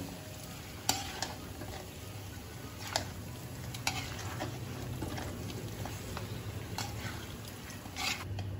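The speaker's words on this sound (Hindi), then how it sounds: "इसे एक दो मिनट के लिए और भून लेंगे" A faint, steady sizzle of mutton frying in a pan, with occasional light clinks of stirring, heard quietly and without talk.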